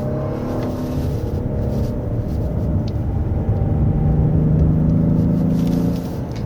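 Genesis G90 with a 48-volt electric supercharger and all-wheel drive, heard from inside on a winding road as a loud, steady engine drone and road rumble that swells slightly as the revs climb.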